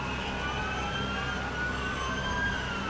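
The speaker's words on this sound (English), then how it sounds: "going away with their sirens" Several LAPD police cruisers wail with overlapping sirens while pulling away through downtown Los Angeles during a protest march, steady rising and falling tones over constant street rumble, moderately distant and continuous.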